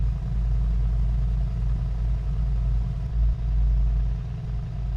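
A Mercedes-Benz G63 AMG idles after a cold start, its exhaust giving a deep, steady, throaty low rumble with slight pulsing, loud and close, with no talk.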